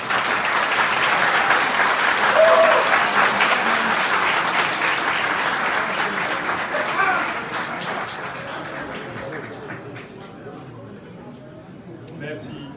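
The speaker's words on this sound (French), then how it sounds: "Merci pour vos applaudissements" Sustained audience applause at a press conference held by a politician, a loud crowd of clapping hands that gradually fades and thins toward the end, with voices mixed in beneath.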